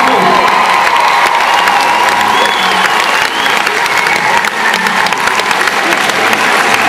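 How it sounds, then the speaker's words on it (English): Loud audience applause for schoolchildren at a stand-up comedy event in Wembley, vigorous sustained clapping mixed with cheers, whoops and children's shouts, with some voices in the crowd. "Can we have a big round of applause for the children of Matilda Monk's Kennedy School?"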